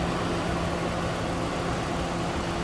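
A 1997 Lincoln Town Car Cartier with a 4.6 liter engine idles steadily, a low, even hum with a faint tonal drone, heard close and alone throughout.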